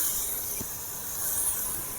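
Chicken pieces for steamed momo filling hit a hot pan, giving a steady, fairly soft sizzling hiss of steam that holds evenly throughout with no talking.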